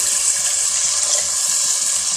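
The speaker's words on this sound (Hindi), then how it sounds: "आधा गिलास पानी डाल देंगे" Half a glass of water gushes and splashes into a hot pan of frying spice paste, a loud continuous hissing rush with no voices.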